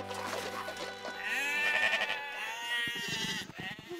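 Sheep in a field give a drawn-out nasal bleat, loud and close, followed by brief rattling and shuffling.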